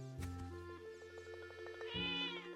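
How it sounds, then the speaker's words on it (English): Meows from a cat on a rooftop in The Legend of Zelda: Echoes of Wisdom, a couple of clear tonal calls over a soft melodic game soundtrack. "There's a cat on the roof!"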